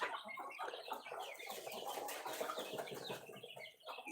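Chickens cluck in a coop where a hen sits brooding on eggs, a faint busy mix of soft clucks and rustling farmyard noise that goes on throughout, with no talking.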